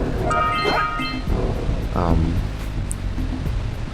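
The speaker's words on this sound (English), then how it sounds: "That's just a waterfall." A waterfall in the video game Jak and Daxter: The Precursor Legacy gives a steady, loud rushing wash that runs through the whole stretch, with tonal game sounds or a voice layered over it.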